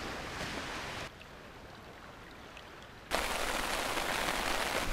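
Steady rain on an island hisses loudly, drops briefly to a softer patter for a couple of seconds, then returns just as heavy. No voices are heard.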